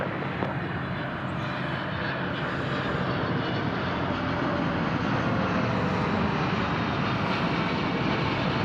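A large airliner on its takeoff roll from a DFW Airport runway, a steady, powerful jet engine roar that fills the clip without letting up and sounds fairly close.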